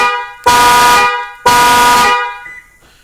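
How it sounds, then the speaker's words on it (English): Two long, loud, steady blasts of a 2010-2017 Toyota Tundra's horn, triggered by the remote start panic feature, each held about a second with a brief gap, then fading. "we'll get a horn honk confirmation"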